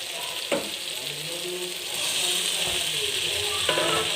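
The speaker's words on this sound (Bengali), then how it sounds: "আলুটা দিয়ে দিলাম। এবার ভালো করে আলুটা কষাবো।" Potatoes sizzle and fry in a spiced masala with chickpeas and tomato, a steady crackling hiss with a few sharp clicks of a spoon against the pan; the frying swells louder midway.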